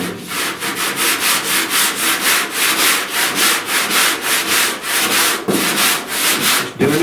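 Block sanding body filler by hand on the dented rear panel of a 1969 Chevrolet C10 pickup, close and loud, with steady rhythmic back-and-forth rasping strokes that continue throughout without speech.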